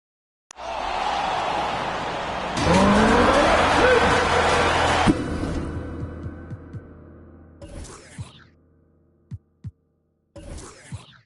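A loud race-car engine roar rises and sustains with a rising tone, then cuts off, followed by scattered thumps and crowd-like bursts, part of an NBA 2K24 basketball game presentation.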